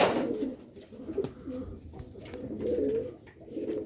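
Pigeons coo nearby, soft repeated throaty calls in an uneven rhythm over a faint background hiss.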